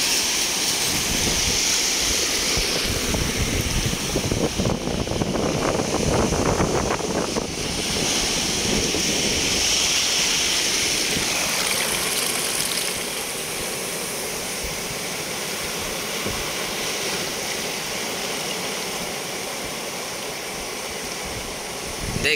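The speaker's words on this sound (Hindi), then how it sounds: "देखिए दोस्तों ये रहा समुंदर" Sea waves wash onto the beach at Porbandar as a steady roar of surf, continuous and fairly loud, with wind buffeting the microphone throughout.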